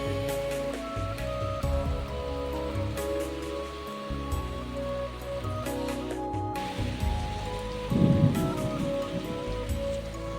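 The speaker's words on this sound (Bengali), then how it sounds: "হয়ে গেল বৃষ্টি" Steady rain pours down outdoors near a field and woodland edge, a dense even hiss throughout with a heavier low rumble swelling near the end.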